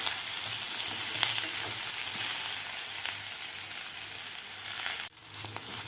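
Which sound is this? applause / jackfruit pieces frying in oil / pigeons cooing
jackfruit pieces frying in oil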